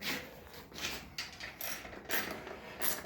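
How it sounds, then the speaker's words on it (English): Bolts being undone on the steering cover of a Cub Cadet build: a handful of short metallic ratcheting and clicking bursts, close by, with brief pauses between them and no talking. "Undo these couple of bolts here."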